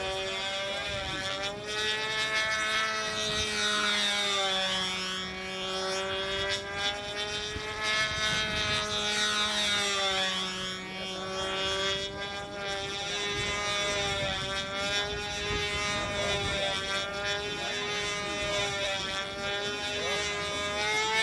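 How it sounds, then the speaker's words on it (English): A control line model airplane in flight at a competition circle, its small engine giving a continuous high-pitched buzzing drone that rises and falls in pitch as the plane circles, loud and steady for the whole stretch. "This plane just loves the wind."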